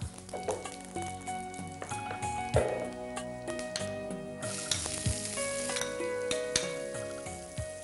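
Onions sautéing in a pan of hot oil with cumin, a steady close sizzle under repeated clinks and scrapes of a spoon stirring against the metal.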